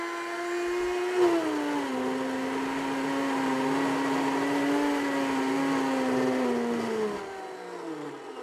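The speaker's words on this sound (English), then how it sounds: "I'm gonna turn my blender on, and you're just gonna let it rip until it looks like powdered sugar." A blender grinds organic cane sugar into powdered sugar, making a steady loud whirring motor drone whose pitch dips slightly as the sugar breaks down, then winds down at the end with no talking.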